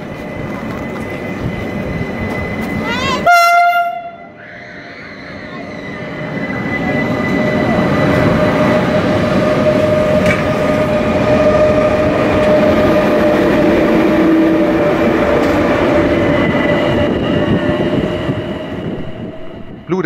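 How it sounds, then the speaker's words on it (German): Trains at Bludenz, a busy Austrian railway station, rumble and clatter loudly nearby, with a short horn blast early on and a long, thin wheel squeal hanging over the noise. "Bludenz ist ein großer und geschäftiger Bahnhof."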